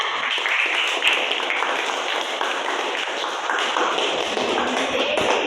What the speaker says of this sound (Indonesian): tepuk tangan untuk kelompok dua